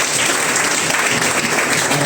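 A church congregation applauding together, a dense continuous clatter of many hands filling the room at close range.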